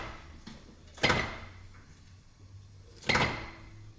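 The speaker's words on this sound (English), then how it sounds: "It sounds like it's just coming from my steering rack" The steering rack of a BMW E46 wagon drift car gives two hard, close clunks about two seconds apart over a low background rumble, with no talking.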